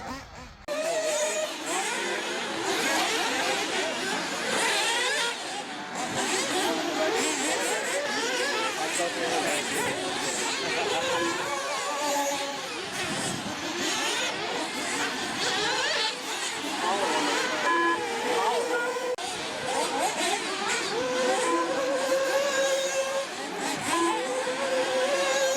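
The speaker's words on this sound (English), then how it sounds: "Corey tops off the fuel for the Alpha Dragon engine and sends him out." A nitro RC car with an Alpha Dragon engine racing in an MNRC offroad series round at a Lake Superior RC club track, giving a continuous high buzzing whine mixed with other cars and crowd chatter throughout.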